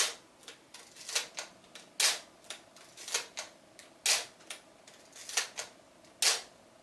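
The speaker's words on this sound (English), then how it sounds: "The metal, vertical metal focal plane shutter." A series of crisp mechanical clicks and snaps at uneven intervals, a vertical metal focal-plane shutter on an East German (GDR) camera being fired repeatedly, close by in a quiet room.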